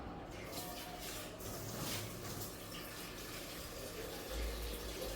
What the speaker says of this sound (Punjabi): ਪਹਿਲਾਂ ਗਰਮ ਪਾਣੀ ਪਾਵਾਂ